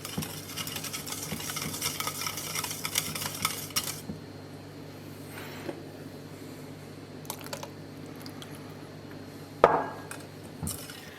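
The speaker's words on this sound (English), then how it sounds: "we will whisk in the Calvados" Calvados is whisked into cream, making a dense, rapid scratchy whisking at first, then quieter sporadic taps and clinks with one sharper knock near the end.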